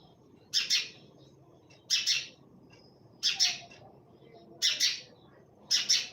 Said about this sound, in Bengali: পাখির ডাক কিন্তু শুনতে বেশ ভালো লাগে।